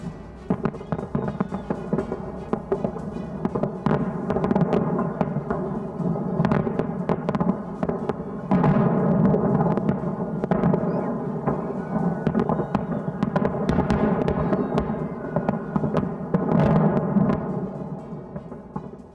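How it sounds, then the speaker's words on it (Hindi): Fireworks at a Russian Victory Day celebration: a long run of crackling bursts and deep booms, some sharp and close, others rolling and overlapping, with no voices. "रूस में विजय दिवस पर आतिशबाजी हुई है।"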